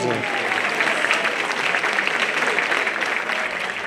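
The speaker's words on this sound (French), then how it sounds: "Une bonne main d'applaudissement à nos chanteurs et chanteuses." An audience claps steadily and densely for a Christmas choir, a full, sustained round of applause that fills the whole stretch without pause.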